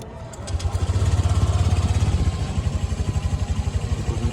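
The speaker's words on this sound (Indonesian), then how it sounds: "Kemudian engine kita nyalakan." An engine is started during a starting-current check and settles into a fast, even, chugging idle that stays loud and close throughout.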